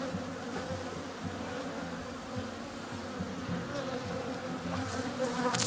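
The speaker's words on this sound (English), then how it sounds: "He was shaking those bees, and so they started flying at my hands." Honey bees swarm around hives, a dense, close, continuous buzzing hum with no talking.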